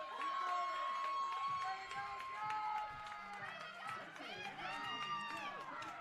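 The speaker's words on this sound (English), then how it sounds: "BU crowd hasn't had a chance to be this loud in a little bit" A Benedictine University softball crowd at a conference tournament game cheers and shouts in a loud burst of overlapping voices and whoops, fading somewhat then swelling again, with a commentator's voice mixed in.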